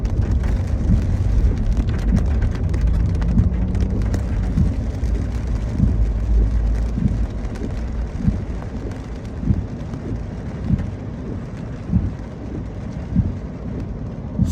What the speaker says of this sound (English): It's just raining right now.